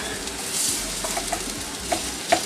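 Food sizzles in a very hot pan while sirloin steak is being cooked, a steady moderate fry hiss broken by a few sharp pops and spatters near the end.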